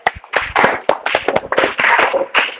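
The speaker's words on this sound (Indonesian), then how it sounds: "tepuk tangan dulu buat Bapak Angela." A class gives applause for a presenter, with a dense burst of many hands clapping that stays steady and close for a few seconds in a classroom.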